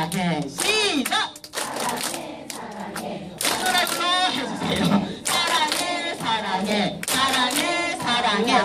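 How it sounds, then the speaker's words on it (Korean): Audience at a parenting lecture claps along in rhythmic patterned bursts, loud and close, mixed with chanting voices and the instructor talking between rounds. "세 번째 박수입니다"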